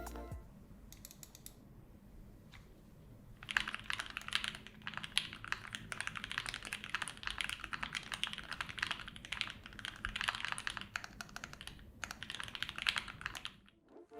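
Steady, continuous typing on a mechanical keyboard fitted with linear switches such as Gateron Ink Black or Novakeys Cream, a dense run of close keystrokes with no talk.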